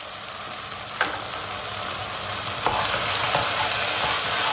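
Dried mint sautéing in a pan for a golden lentil soup, a steady hiss of frying rising slightly over a few seconds with a few soft scraping stirs, close and alone with no talk.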